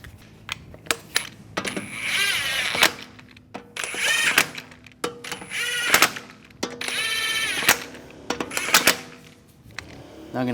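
On a 2004-2010 BMW X3, a power tool fires in several quick buzzing bursts while wheel lug nuts are run on, with sharp metallic clicks and rattles in the gaps between bursts.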